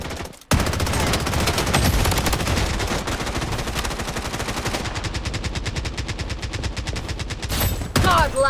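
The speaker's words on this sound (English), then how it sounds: "Taking fire!" Rapid automatic gunfire in the Blood Strike shooter game, a SCAR Damascus rifle among the weapons, dense sustained bursts after a brief gap, loud and continuous through a duo-versus-squad firefight.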